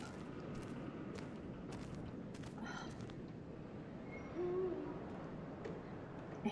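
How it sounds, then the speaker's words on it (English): A soft, low owl hoot rises from a noisy outdoor ambience in the video game Life Is Strange, one short call near the middle over a constant hiss, with scattered clicks and no speech. "you're not a bitch, you're just an owl"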